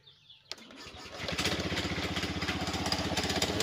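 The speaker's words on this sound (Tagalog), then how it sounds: "inayos na natin yung electrical din ito at atin na rin paandarin" Honda Beat FI scooter engine starting after a faint electrical whine and a click, catching with a sharp crank and then settling into a steady, fairly loud idle with a slightly rough, rattly beat.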